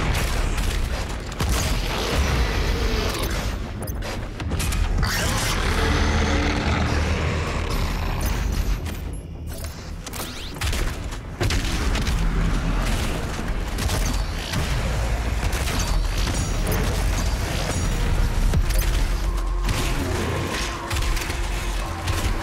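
Continuous heavy turret fire and booming impacts in DOOM Eternal as the path is cleared, a dense, loud, unbroken wall of blasts and rumbling that lasts the whole time.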